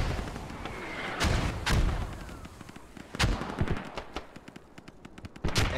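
Mortar rounds and gunfire crash in an online multiplayer shooter match, with several heavy booming impacts followed by a rapid burst of sharp repeated shots, loud and close with a noisy battlefield bed underneath.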